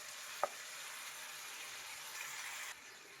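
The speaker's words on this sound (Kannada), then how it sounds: "ನಾವು ಮೊದಲಿಗೆ ಟೊಮೆಟೊ, ಈರುಳ್ಳಿ, ಗೋಡಂಬಿ ರುಬ್ಕೊಂಡ್ವಲ್ಲ ಅದು ಪೇಸ್ಟ್ ಹಾಕ್ತಾ ಇದ್ದೀನಿ" Tomato, onion and cashew paste going into a pan of chicken masala, giving a steady, even sizzle with a brief sharp tap near the start and the frying dropping slightly toward the end.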